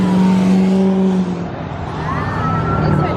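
A blue Lamborghini Aventador SV fitted with an aftermarket exhaust pulls away at a cars and coffee meet in Cypress, its loud, steady engine drone easing off after about a second while chatter from the crowd carries underneath.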